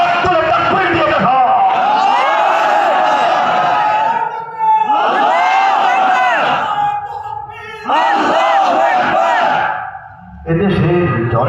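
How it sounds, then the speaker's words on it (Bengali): A crowd at a rally roars a takbir chant in loud, sustained bursts of massed voices, repeated three times with short dips between them. "হাত তুলে তাকবীর দিয়ে দেখা।"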